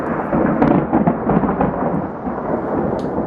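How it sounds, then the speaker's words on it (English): Thunder rolls through a heavy storm in Claremont, San Diego County, a loud, deep, sustained rumble swelling and fading over a few seconds, with rain hiss beneath and no voices. "That bolt of lightning and rumble of thunder is video from Claremont."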